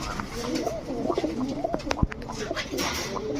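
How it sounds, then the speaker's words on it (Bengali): Pakistani Kaldom pigeons in a loft, close and soft, giving repeated low cooing calls with light rustling and wing sounds around them. "এরপরে পাকিস্তানি কালদম আরো একটা জোড়া দেখাবো"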